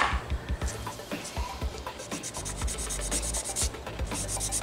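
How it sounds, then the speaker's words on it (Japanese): A file rasping back and forth across a plastic model car body, an Aoshima Lamborghini Aventador kit, in short, close, repeated scraping strokes. "いつも使ってるヤスリを使って"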